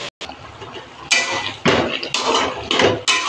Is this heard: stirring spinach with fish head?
yes